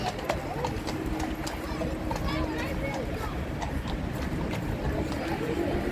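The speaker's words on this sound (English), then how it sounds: "That scared the horse. The horse didn't like that." Horse hooves clip-clop in a steady walking rhythm at a busy outdoor parade ground, close and distinct over a constant crowd murmur with people talking.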